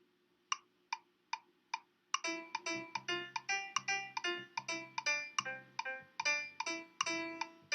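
Synth notes play a simple melody alone at first, then a low C-based bass line for Ode to Joy joins in under the plucked tones, with each note struck in a steady rhythm. The bass stays faint beneath the melody.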